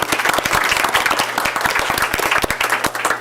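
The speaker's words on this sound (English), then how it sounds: "Give him a round of applause." Audience at a school board meeting applauding steadily for a student leader from an elementary school, dense continuous clapping from a nearby crowd lasting the whole stretch without a break.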